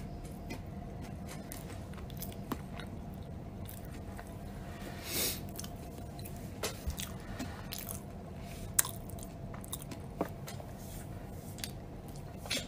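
Close, soft chewing and biting during a relaxed indoor moment, with quiet moist clicks and occasional small crunches spread over a low, steady background hum, and no talking.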